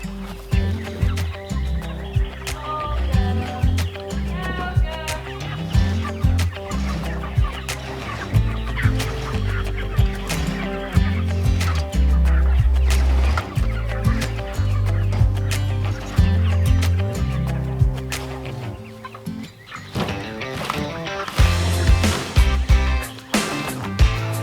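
Broiler chickens clucking and squawking at feeding time on a homestead, a dense busy chorus of overlapping calls throughout, fairly close and loud with no talking.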